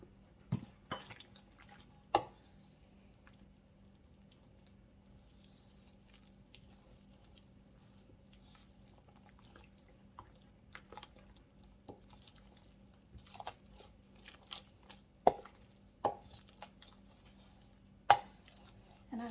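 Two cups of all-purpose flour being stirred into cinnamon roll dough in a bowl: sparse, quiet taps, soft squishy plops and occasional sharper knocks scattered through a near-silent room, with no talking.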